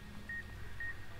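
Electronic beeping in Fallout: New Vegas Dead Money, two short, clean, evenly pitched tones about half a second apart that sit over a steady low game-ambience rumble.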